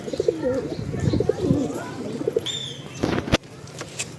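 Pigeons cooing repeatedly near a tree, throaty rolling calls at close range, with some chirping and a brief thump of movement toward the end.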